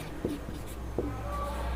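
Chalk or marker writing on a board during a Class 10 trigonometry lesson, a few short scratchy strokes at a moderate level over steady room hum, with no speech on top.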